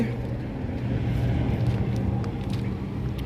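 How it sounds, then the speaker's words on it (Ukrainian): A Kubota Aste 15 mini tractor's diesel engine, a close, loud, steady low rumble that holds throughout with slight surges, no clear cranking or start-up moment. "Зараз заведемо, включимо фрезу, все зможете побачити. Так, Заводимо Астія 15."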